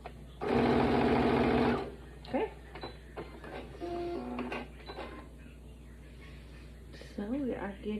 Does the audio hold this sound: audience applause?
no